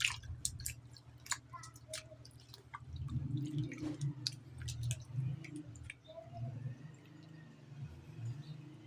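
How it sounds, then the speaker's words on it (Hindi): Taro roots (arbi) rubbed and washed by hand in a bowl of water, close wet squishing and sloshing with scattered drips and clicks, continuous and fairly quiet. "अब हम इन्हें हाथ की मदद से मसल कर अच्छी तरह से धो लेंगे।"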